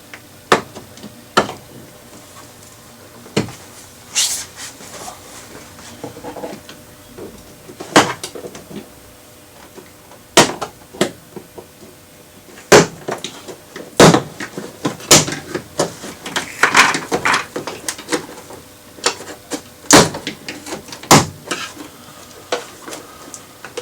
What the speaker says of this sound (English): Just try to get my panel tool in there so it'll release my door panel.